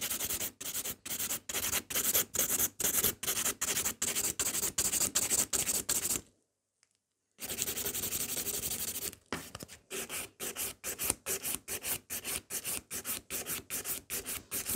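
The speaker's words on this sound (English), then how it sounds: "And then file the shape." Gel nails being filed into a coffin shape with a nail file, a steady run of quick rasping back-and-forth strokes, close and loud, broken by a pause of about a second before the rhythmic scraping resumes.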